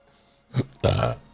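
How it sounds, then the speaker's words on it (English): A person burps twice in close succession, a short throaty eructation followed by a longer, louder, rumbling one, near and alone without talk. "I didn't mean to burp"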